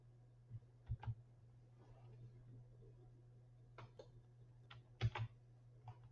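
Sparse, faint keystrokes on a computer keyboard come in a few small clusters of clicks with pauses between them, over a low steady electrical hum.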